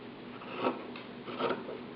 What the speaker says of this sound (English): Then you just want to go all the way across, cutting ½ inch strips.